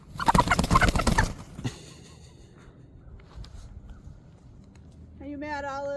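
A rooster upset after being handled while its feathers were trimmed gives a short burst of squawks and clucks, loud at first then dying away, with a voice talking and a higher bird call near the end.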